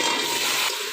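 Potatoes and cauliflower fry in a pan with a dense, steady hiss of sizzling oil that eases off slightly near the end.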